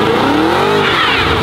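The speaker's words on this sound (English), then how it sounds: "Go on ahead and hit that burnout. Hit the brake and hit the gas." A Cadillac CT5-V Blackwing revs hard during a burnout, its engine note climbing and falling over a dense harmonic growl while a squealing tire layer rises beneath, loud and close throughout.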